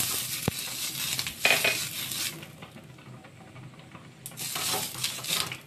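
Semolina roti frying crisp on a hot tawa, a soft sizzle that swells and fades, with brief scraping and utensil clicks close by and no talking.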